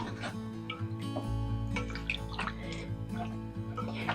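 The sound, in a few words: milk being poured into potato soup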